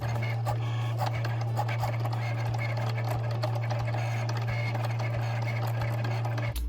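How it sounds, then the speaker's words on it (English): A Cricut cutting machine cuts white heat-transfer vinyl, giving off a steady motor hum with repeated rapid whirring and clicking passes from the carriage, close and continuous until it stops abruptly near the end. "So on the Cricut, again, just push the little Cricut go sign, and it'll go"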